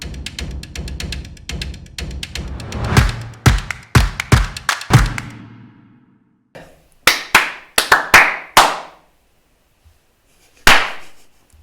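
Hand clapping, first a rapid run of claps, then slower loud individual claps with pauses and a final lone clap, close and sharp in a quiet room.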